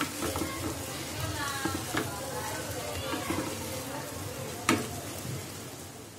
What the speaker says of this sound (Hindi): अब हम इसमें हमारे पोटैटोज मिक्स कर लेंगे। उसे अच्छी तरह से मिक्स कर लेंगे।